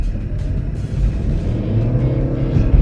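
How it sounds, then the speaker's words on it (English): The petrol engine of a 2014 Chevy Volt kicks on during acceleration, a low rumbling drone heard from inside the car that builds gradually and steadies over a few seconds. "You can hear the engine kick on because when it's needed, it'll be able to add a little bit of boost."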